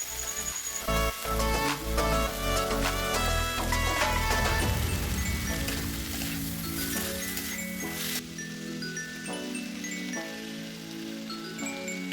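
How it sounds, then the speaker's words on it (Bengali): Potato pieces and mushrooms stir-fried together in a pan for a Bengali mushroom curry, a dense, steady sizzle with soft stirring under background music that fades to quieter frying near the end. "ভালো করে কষিয়ে কষিয়ে পুরোটাকে একসাথে মিক্সড করে একটু ভেজে নেওয়া যাক"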